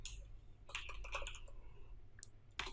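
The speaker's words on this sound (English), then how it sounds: "I'm going to type" Key clicks from a computer keyboard while PHP code comments are typed, coming in short close bursts of rapid taps with a few isolated presses near the end, with no voices.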